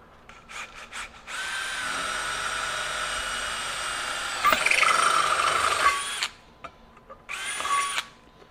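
A DeWalt DCD794 Atomic 20V brushless stubby drill with a 1/4-inch bit drills into steel: a few short clicks, then a long loud whine that strains briefly near the end, and a final short burst.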